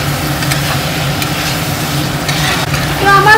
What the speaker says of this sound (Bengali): এবার ভালো করে যতক্ষণ না মশলা দিয়ে তেল ছাড়ছে ততক্ষণ আমি ভালো করে কষিয়ে নেব।